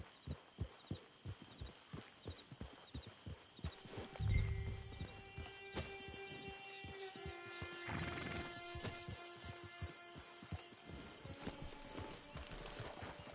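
A horse gallops in a PS4 video game, with steady rhythmic hoofbeats thudding throughout over sustained game music tones, and one heavier rumble partway through.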